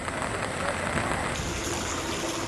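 Heavy, continuous monsoon rain pours during flooding in Latur district of Marathwada, a dense, steady wash of noise with no breaks that fills the whole stretch evenly.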